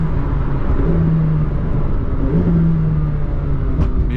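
A McLaren engine heard from inside during a midnight drive, a loud steady rumbling drone with two brief rising blips that fit downshifts, no talk.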